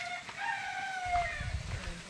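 A village rooster crows in a Konkan countryside setting, a drawn-out tonal call sounding fairly close over a low background rumble, with no talking.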